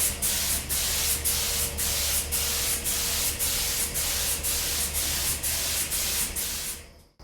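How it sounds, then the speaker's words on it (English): Green metallic paint is sprayed onto motorcycle parts for an SV650 street fighter build, a close, loud, steady hiss pulsing in regular short bursts before cutting off at the end. "Three coats of the green metallic with the glow got us to this point."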